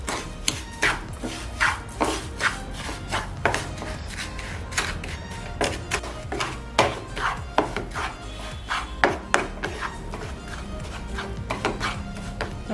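A spatula stirs wheat flour halwa with sugar in a pan over medium heat. It makes a quick, steady run of loud clacks and scrapes against the metal, with no talking.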